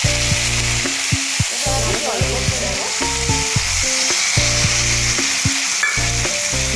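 Eggplant and radish fry with salt, turmeric and ginger paste in a pan, a loud close sizzle running under a strong rhythmic mechanical hum that pulses on and off, with occasional stirring.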